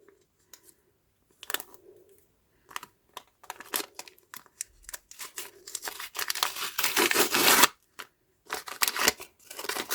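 A plastic packet being opened makes crinkling and rustling in uneven bursts, sparse and scattered at first, then denser and louder in the second half, with brief pauses between handling noises.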